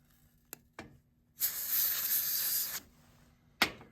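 Compressed air can sprays in one steady hissing burst of about a second and a half while a Machinewise Sonora phonograph is cleaned, framed by a few sharp nearby clicks and knocks.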